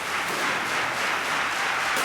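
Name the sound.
esports tournament crowd cheering and applauding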